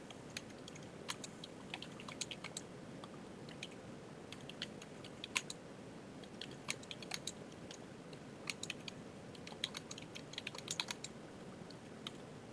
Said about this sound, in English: I want my typing to go for more than one line